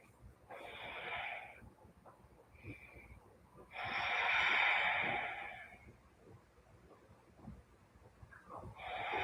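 Deep, slow breaths during a yoga flow with twists, a long audible exhale in the middle and softer breaths before and after, close to the mic with no talk.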